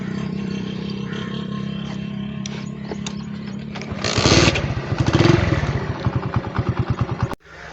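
A motorcycle engine idles, then revs up and putters with a rapid chugging rhythm before cutting off abruptly.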